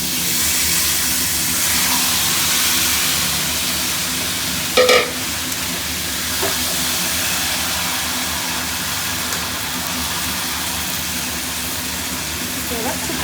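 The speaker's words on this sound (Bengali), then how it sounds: "এবার আমরা এটার মধ্যে ম্যারিনেট করা মাংসটা দিয়ে দেব।" Marinated mutton fries with browned onions in a pan, a constant broadband sizzle and hiss with a brief clatter partway through.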